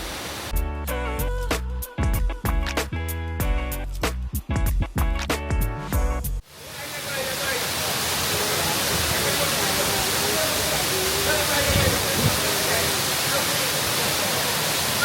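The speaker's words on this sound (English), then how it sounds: "it's a pretty stunning waterfall" A Bali waterfall gives a steady, full rushing roar that fills the second half, loud and unbroken, after a stretch of music in the opening seconds.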